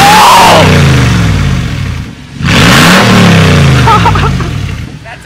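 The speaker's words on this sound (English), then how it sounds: "This is a straight pipe. You gotta show what it sounds like turning on because it sounds good." A truck engine with a straight pipe exhaust revs hard in two loud bursts, climbing and falling with a brief dip between them, close by with faint background voices.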